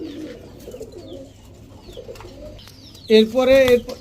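Dhakaiya Giribaz pigeons coo in a soft murmur close by, swelling into a louder, clearer burst of cooing near the end, with no talk.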